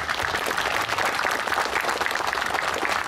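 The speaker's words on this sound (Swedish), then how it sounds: "En applåd." A room full of people claps for an honored guest at a motorcycle club gathering, with dense, even applause that stays loud and steady from start to finish.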